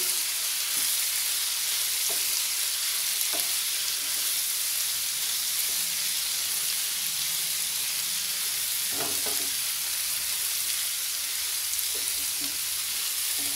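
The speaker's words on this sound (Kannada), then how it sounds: "ಒಂದು ನಿಮಿಷ ಇದನ್ನು ಬಾಡಿಸ್ಕೊಂಡಿರೋಣ" Chayote, sweet corn and green peas curry with pepper powder sautéing in a pan, a steady soft sizzle with occasional light clinks of stirring.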